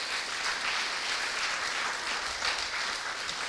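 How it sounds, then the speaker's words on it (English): Conference attendees at HPG 2023 give a speaker another round of applause, a brief, even burst of many hands clapping that holds steady and moderately loud throughout without talk. "Another round of applause for Killian"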